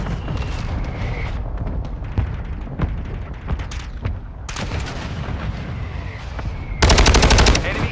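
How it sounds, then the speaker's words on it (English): Mortar strike explosions mixed with gunfire in Call of Duty: Modern Warfare, a dense battlefield din of booms and shots running throughout, swelling louder near the end. "hostile mortar strike near your position"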